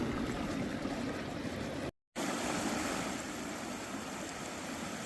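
Water rushes steadily through a breach in an irrigation ditch fed from Oak Creek on a ranch. The broadband flow is continuous and fairly loud, broken only by a brief dropout.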